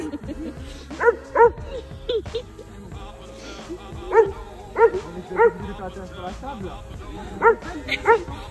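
A dog barks in short, sharp pairs of yips, several times over, fairly close, with some background noise between barks.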